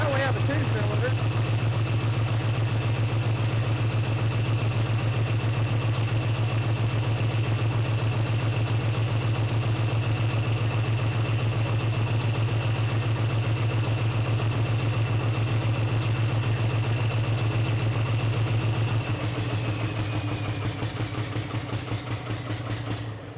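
A diesel engine running on two cylinders with the other injectors cut off in a mechanics program shop, a loud steady low idle throb that holds almost unchanged, then shifts slightly near the end.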